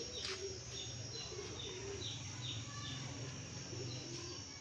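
Golden pigeons coo softly in a steady low murmur against constant background noise, with faint chirps from other birds scattered through it.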